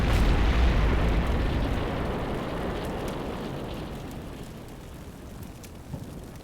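A loud explosion from an IED in a military video game, a heavy low boom that opens at full strength and rolls off into a long rumbling decay over several seconds, with no speech.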